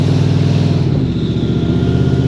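A turbocharged 600-horsepower Lincoln engine held on light throttle gives a close, steady mid-pitched drone with a firm pulsing rumble that eases slightly about a second in.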